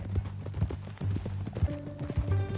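Horse hooves clip-clop steadily in a Western video game, each clop near and distinct over a low background hum, with brief snatches of other game sound in the final second.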